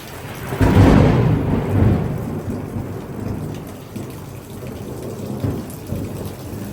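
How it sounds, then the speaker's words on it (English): During a severe thunderstorm with gusty winds and heavy downpours, a close lightning strike cracks into a loud rolling thunder boom that fades, with steady heavy rain pattering throughout. "2 close lightning strikes. The rain's picking up."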